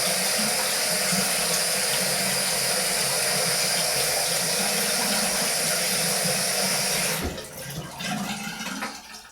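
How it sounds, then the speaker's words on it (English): Water runs steadily from a tap onto a shaving brush knot, a constant rushing flow that shifts and breaks up near the end as the stream is interrupted. "Add a couple drips of water at the base of the knot of my brush"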